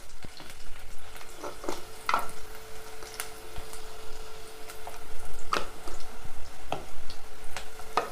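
Onions and turmeric fry in hot oil with a steady crackling sizzle, punctuated by sharp spatula clinks against the pan every few seconds; no one speaks.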